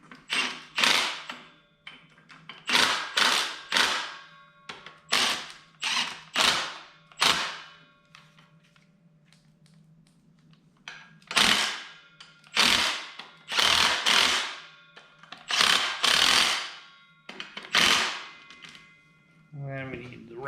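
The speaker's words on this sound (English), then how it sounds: "I'm just going to run everything down with the impact until it touches" An impact wrench runs bolts down on an Allis Chalmers B tractor, firing in a string of short, loud rattling bursts with brief pauses between them, close up and mostly alone.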